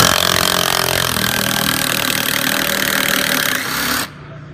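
Bosch PS41 1/4-inch cordless impact driver backing out a locking bolt, a loud continuous rapid hammering whir held for about four seconds before it abruptly stops, leaving a quiet hiss.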